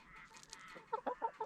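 A Sussex hen clucks in a quick series of short, close clucks after a moment of quieter chicken sounds.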